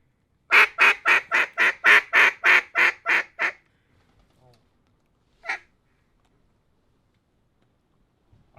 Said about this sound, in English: and there's ducks everywhere.